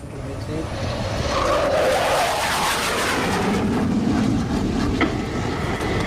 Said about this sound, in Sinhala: Jets overhead, stand by.